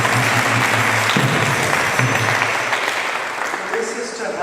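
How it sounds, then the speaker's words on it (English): Steady applause from a Sunday program audience for a team being thanked, loud at first and slowly fading, with voices murmuring beneath it. "So please give them a big round of applause."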